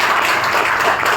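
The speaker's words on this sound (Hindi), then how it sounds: "इनके लिए एक जबरदस्त तालियां चाहूँगा।" An audience at a business meeting claps together in a dense, loud burst of applause that stays steady for its brief length.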